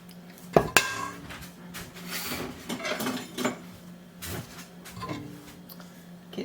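A spatula scrapes homemade preserves out of a cooking pot and off a ladle, giving close, irregular metallic clinks and scraping strokes with two sharp knocks early on, and no talking.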